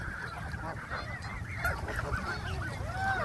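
Geese honk over and over at a city park pond where ducks also gather to be fed, their loud nasal calls overlapping in a busy, continuous chorus close by.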